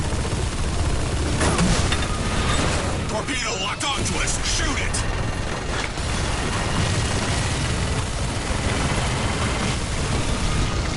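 Booming blasts and crackling gunfire from a torpedo being destroyed in the shooter game Bulletstorm, dense and loud throughout with heavy low rumble and a sharper burst of detonation midway.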